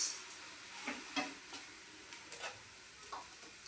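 Turmeric stirred into a sizzling pot of khichuri, a soft steady fry hiss with a few faint scraping clicks from the stirring spoon, quiet and close.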